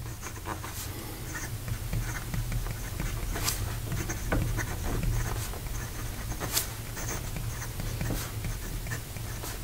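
A Montegrappa fountain pen with a steel nib writes on paper, giving soft, close scratchy strokes in irregular bursts with short pauses between them, and nobody speaks.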